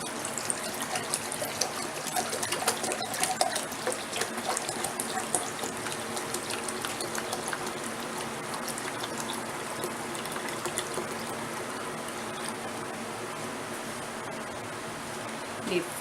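Vinegar being poured into a measuring cup for a pickling brine for hot peppers, a steady close liquid stream that trickles and splashes without a break.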